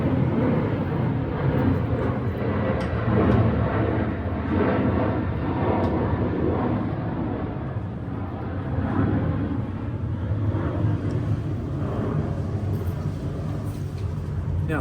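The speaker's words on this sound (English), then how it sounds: "I've got a plane going overhead" An airplane passes overhead outdoors, heard as a steady, broad, low rumble that holds for the whole stretch with slight swells in loudness and no voices over it.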